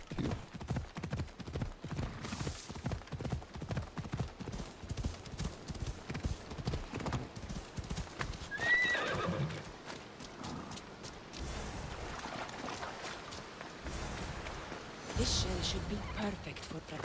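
Horse in the video game Assassin's Creed Odyssey: rhythmic clip-clop of hooves close by with a brief neigh midway, all fairly quiet and mixed under someone talking.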